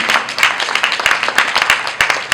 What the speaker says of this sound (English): Please celebrate them with an applause as I leave them.